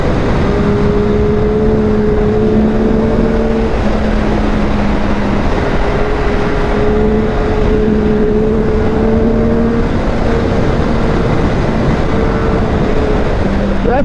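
A 2025 Yamaha R9 motorcycle accelerates through its revs, a steady engine tone climbing in pitch and dropping at each shift under heavy wind rush.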